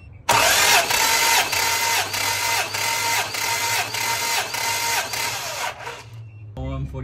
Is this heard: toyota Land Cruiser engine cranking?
yes